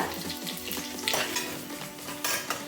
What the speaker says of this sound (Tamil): ஒரு பெரிய வெங்காயம் கட் பண்ணி போட்டுக்கோங்க